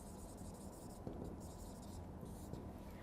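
A heading being written out by hand for a maths solution, steady faint scratching of writing under a constant, loud background hum, with a faint voice murmuring.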